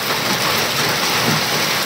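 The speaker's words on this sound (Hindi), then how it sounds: "भाई बहुत तेज बारिश हो रही है बहुत तेज बारिश और ओले भी झड़ रहे ओले" Heavy rain with hail pours down in a steady, loud, dense roar that fills the whole stretch without a break.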